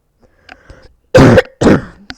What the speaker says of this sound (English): Sorry, I cough like that.